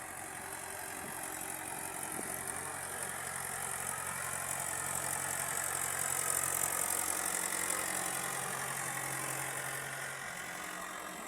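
An Arjun tractor engine drones on continuously, fairly distant and even, with a broad hiss layered over the low rumble and no talking.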